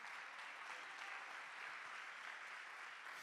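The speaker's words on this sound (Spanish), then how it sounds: "Dale un fuerte aplauso a nuestro Dios" A church congregation applauds in a steady, dense wash of clapping that holds evenly throughout at a distance, with no voices above it.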